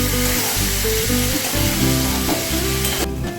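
Chana sizzles steadily as it fries in a pan, Kolkata restaurant style, with a constant crackling hiss and occasional scraping as the pieces are stirred, close and clear with no talking.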